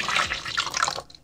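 Whole milk pours into a blender cup for crepe batter, already holding eggs, a steady close liquid gurgle that lasts about a second and then cuts off.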